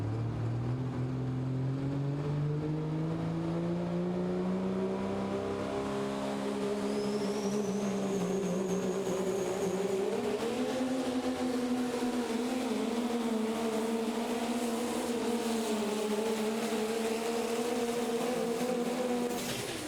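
John Manns' pro stock diesel truck Crazy X roars down the pulling track at Terre Haute, Indiana, a loud, sustained engine howl whose pitch climbs and wavers as the sled loads it over twenty seconds.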